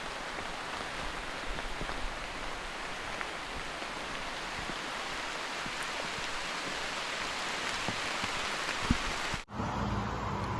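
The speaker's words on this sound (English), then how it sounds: "so just walking in the rain. But this is proper summer rain." Steady summer rain falls on a hiker walking the Appalachian Trail, a continuous close hiss of drops on the surroundings that runs unbroken, with a brief dip near the end before the rain resumes.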